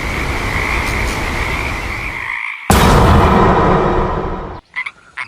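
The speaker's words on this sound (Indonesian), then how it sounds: "Katak adalah hewan yang bisa hidup di air dan di darat, atau dapat disebut sebagai amfibi." A frog croaks loudly and close in a harsh, rasping call over a dense, noisy background, which breaks off suddenly and then resumes; no one speaks.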